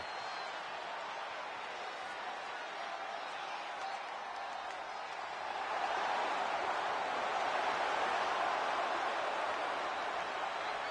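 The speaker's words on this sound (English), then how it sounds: "Rock and Cena face to face, feeding off the electricity of this crowd." Arena crowd in the WWE 2K25 wrestling video game, a broad roar of cheering that holds steady and then swells louder partway through, with no clear individual voices.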